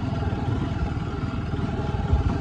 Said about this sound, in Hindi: देखो बाइक की आवाज़ आप सुन सकते हो